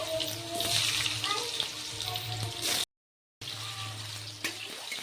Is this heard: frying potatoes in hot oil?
yes